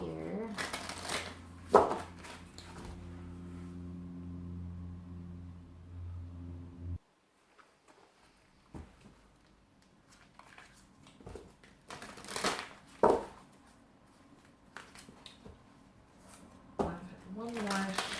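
Tarot cards being shuffled for a psychic reading, with crisp riffling bursts around the start, middle and end and quieter handling between, under intermittent talking.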